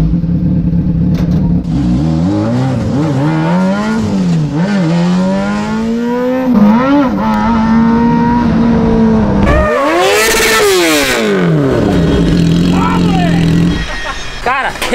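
Mini Camaro drift car on a kart track, its engine loud and close, revving up and down repeatedly with sweeping pitch changes and a sharp high rev burst near the end.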